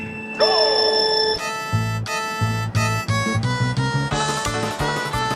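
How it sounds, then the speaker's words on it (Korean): An alarm goes off at the start of a 24-hour Le Mans driving challenge: a bright, melodic electronic ringtone with a repeating pattern of tones. It plays loud and close, on its own, for about five seconds. "알람이 울렸습니다."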